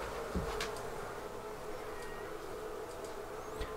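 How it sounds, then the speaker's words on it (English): Honey bees hum in a steady close drone while worker bees are installed in an observation hive, with a few louder passes of individual bees and no speech. "Now these are all worker bees."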